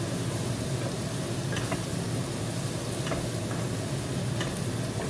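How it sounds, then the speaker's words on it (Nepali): Mutton and onions fry hard over a high flame for a dry mutton fry, giving a dense, continuous sizzle with a few faint stirring clicks and no voices. "अब एकछिन प्याजलाई रातो हुने गरे सँगसँगै भुट्ने"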